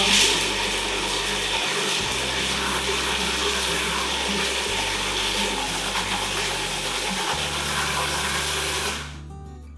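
A food processor whirs steadily as it blends pesto, its motor loud and close, running continuously for nearly ten seconds before spinning down at the end.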